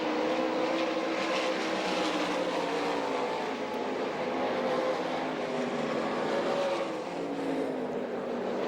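World of Outlaws sprint cars race at the Knoxville Nationals in Knoxville, Iowa, their high-revving engines making a continuous loud, buzzing roar that swells and fades slightly as the pack circles the track, with no voices.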